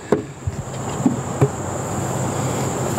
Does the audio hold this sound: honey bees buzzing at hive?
yes